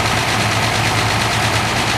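A restored 656 row crop hydro Gold Demo tractor engine runs at a steady, loud, close throb with a continuous heavy vibration, heard alone at a 2014 tractor show.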